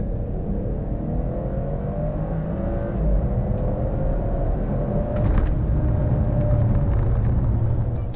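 A 2017 BMW 540i saloon's inline-six pulls hard from 30 to 70 mph, heard from inside the cabin as a steady, loud engine drone over road roar that swells slightly partway through.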